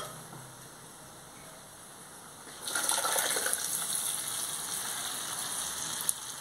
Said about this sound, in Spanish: Ahora le voy a echar otra poquita de agua.